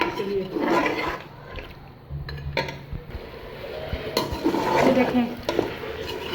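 Mutton korma roasting with green chillies in a pot, a spoon scraping and stirring against the metal in uneven bursts, close and fairly loud, with a brief spoken phrase partway through.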